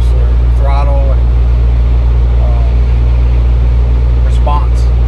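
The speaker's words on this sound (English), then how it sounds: "I'm out driving a Jeep. First time taking it out with the new programmer." A Jeep Wrangler fitted with a new Superchips programmer drives along with a steady low engine and road drone underneath, while someone talks over it throughout.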